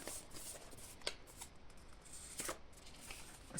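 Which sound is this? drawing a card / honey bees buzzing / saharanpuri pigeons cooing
drawing a card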